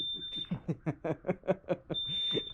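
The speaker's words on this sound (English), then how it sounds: "we set off the carbon monoxide alarm in the building" A carbon monoxide alarm inside a building sounds a steady high-pitched electronic tone, faint and partly hidden beneath rhythmic laughter. The tone drops out briefly in the middle and then returns.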